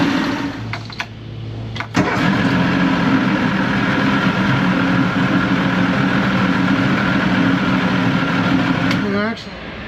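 A 1987 Johnson 150hp V6 outboard with a loss-of-power fault starts up and runs: a brief crank and catch, then a steady loud droning idle, cutting off near the end, with voices talking over it.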